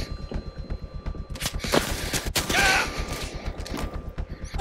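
Rapid bursts of gunfire from the VR shooter game Blood and Truth, with dense repeated shots clustered through the middle, mechanical clicks and brief effects around them, no voices.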